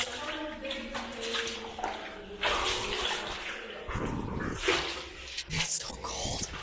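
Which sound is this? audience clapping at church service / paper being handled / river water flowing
river water flowing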